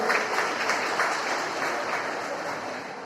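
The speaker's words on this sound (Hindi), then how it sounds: "ताली बजा दी" Audience clapping during a religious sermon, a dense, steady round of applause from a gathered congregation that carries evenly through the whole stretch without any speech.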